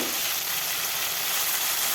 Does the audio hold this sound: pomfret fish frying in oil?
yes